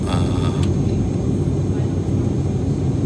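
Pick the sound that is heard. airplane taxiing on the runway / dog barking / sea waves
airplane taxiing on the runway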